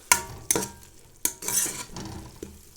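Garlic sizzling in a hot pan while a spoon stirs it, with a few sharp scrapes and clinks against the pan over a soft, steady frying hiss.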